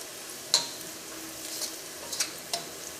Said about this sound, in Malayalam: ഈ മഞ്ഞൾപ്പൊടിയും എണ്ണയിൽ കിടന്ന് നന്നായിട്ട് മുരിയണം